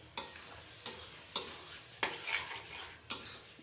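Raw mango pickle is stirred and fried in a pan, with a soft sizzle under it. A spoon scrapes and taps the pan in a rhythmic stroke about every half to three-quarters of a second.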